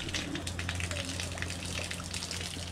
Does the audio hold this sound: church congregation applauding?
no